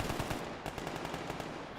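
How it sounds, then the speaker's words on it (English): Rapid bursts of gunfire in the game Stalker GAMMA rattle continuously, dense automatic shots overlapping at a steady, fairly loud level. "There's so much gunfire here already."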